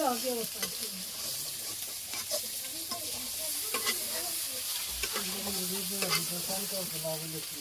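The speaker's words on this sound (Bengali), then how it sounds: "মা প্রথমে মাংস বেজে নিবেন" Meat sizzles steadily in a hot pan on a village stove while being stirred, with scraping clatters over the constant frying hiss.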